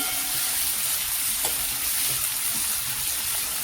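Tomato and onion sauté in a pan with turmeric, giving a steady, close sizzle with a few soft stirring clicks and no talk.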